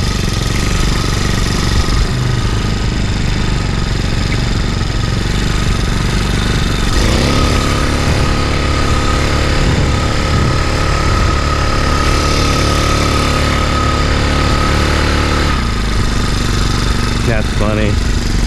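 The engine of a motorized fat bike beach cruiser revs loudly and continuously while its tire spins in beach sand, a close, rough drone with shifts in pitch.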